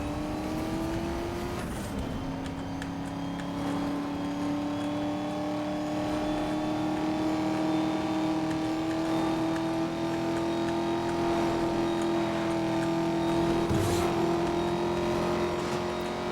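A car in Need for Speed: Most Wanted (2012) on Emmerson Beltway, its engine droning steadily and climbing slowly in pitch as it accelerates, close and loud throughout with a brief gear-shift dip early on and no talk.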